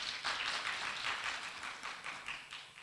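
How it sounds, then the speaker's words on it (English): An audience applauds at a conference session on financial inclusion for women, a faint, distant wash of clapping that holds steady for a few seconds with no voices. "Round of applause"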